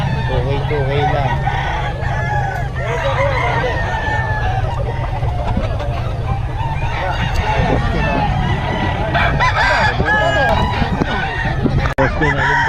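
Several roosters crow repeatedly at a chicken sale over a busy, noisy background of clucking fowl, with people talking nearby throughout.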